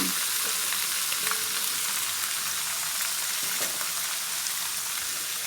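Pork fat rendering in oil with water and salt to make cracklings, a dense, loud, unbroken sizzle with faint pops, close and alone.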